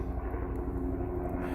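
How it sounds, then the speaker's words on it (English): A rescue helicopter over a mountain trail near Kernville, California, produces a steady, loud, continuous engine and rotor roar overhead with no talk. "So it looks like our rescue helicopter just came."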